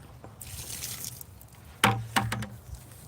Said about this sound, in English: We're gonna go ahead and give this a little bit of water.